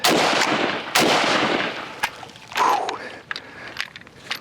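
An AK rifle fires a couple of loud close shots with echoing decay, then the action clatters with sharp metallic clicks and rattles, as if it is malfunctioning.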